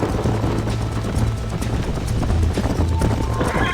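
A horse gallops in the Red Dead Redemption video game, with rapid, steady hoofbeats drumming close and loud over a dense rumble of wind and movement.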